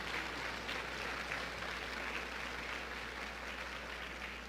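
A church congregation applauds the King of Kings during a sermon, a faint, dense, steady wash of clapping over a low electrical hum, with no voices over it.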